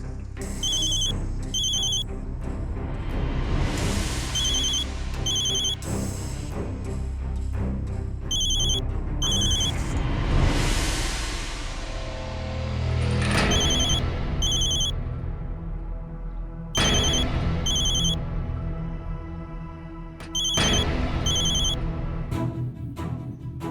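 Telephone ringing repeatedly in a TV drama scene, bursts of electronic ring tone recurring every few seconds over background music and ambience, the call going unanswered.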